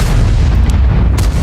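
A T110E5 tank gun fires in the World of Tanks game as a loud, booming blast with a heavy low rumble, filling the whole short moment at close range.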